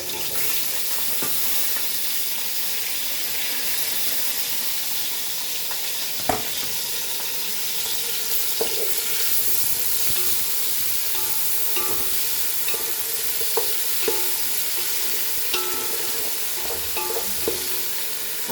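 Onion, tomatoes, green chilies and garlic fry and get stirred in a pan for Goan chicken curry: a steady sizzle with scattered knocks and clinks of a spoon against the pan, recorded close with no talking.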